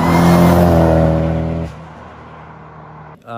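Car engine revving loud and near, a strong throaty roar that holds for over a second and a half, then drops suddenly to a lower idle hum before a brief clatter at the end.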